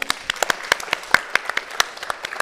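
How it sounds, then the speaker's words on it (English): Audience applause at a performing arts center storytelling event, made up of fairly sparse, distinct claps from a small group, close and crisp, lasting a couple of seconds. "Give him a round of applause"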